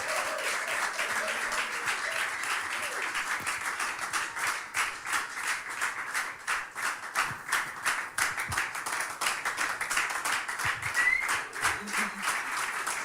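A congregation claps together during a Tuesday worship service, a dense, steady wash of many hands lasting the whole stretch with faint voices mixed underneath.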